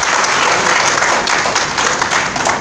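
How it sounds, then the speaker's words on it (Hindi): A seated audience at an organizational workshop talk claps loudly on request, a dense, bright, continuous burst of applause close and at full volume throughout. "ताली बजा दीजिए जोर से।"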